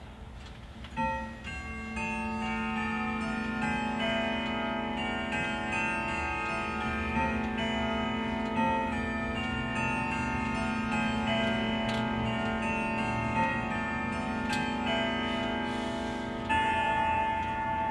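A grandfather clock ticks steadily while its chime rings out a sustained, layered tone through most of the span, a full mechanical strike sequence sounding close and clear.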